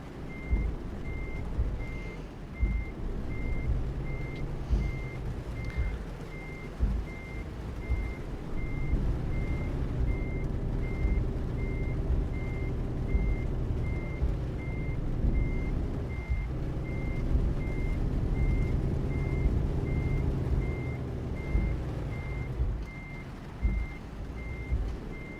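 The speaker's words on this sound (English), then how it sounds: "which is backing up a trailer." Truck backing up a trailer in Euro Truck Simulator, with a high reversing beep pulsing steadily and evenly throughout over a low diesel engine drone that rises as the rig moves.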